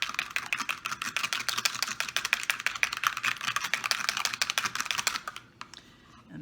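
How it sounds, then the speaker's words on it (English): A single egg is whisked briskly in a bowl, a fast, even run of light clicking taps against the side that keeps up for several seconds before stopping abruptly, close and alone. "I'm going to whisk my egg."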